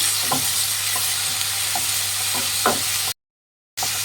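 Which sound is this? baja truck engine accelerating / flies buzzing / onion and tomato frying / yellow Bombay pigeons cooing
onion and tomato frying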